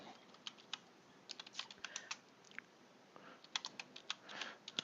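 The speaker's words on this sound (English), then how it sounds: "I'm typing over on Twitch." Keyboard typing comes through as a run of quick, soft key clicks in irregular bursts with short pauses, fairly close but quiet, with no voices.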